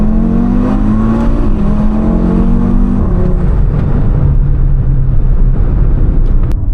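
Tuned Audi RS3 engine accelerating hard, a loud close roar climbing in pitch through a gear, dipping at a shift and pulling again, heard continuously from inside the car.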